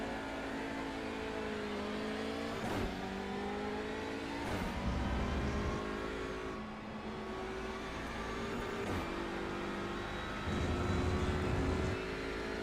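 Touring cars launching from a standing start in iRacing at Silverstone National, engines revving and rising in pitch through repeated gear changes, a steady loud engine drone throughout.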